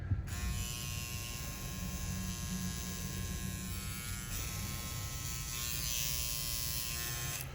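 An electric foil shaver runs continuously with a steady, high buzzing whir, close by and moderately loud, with no voices.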